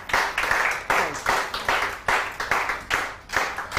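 A TV studio audience claps as a gift hamper is presented on a weekend show, with loud claps landing in a fairly even rhythm of about two or three per second throughout.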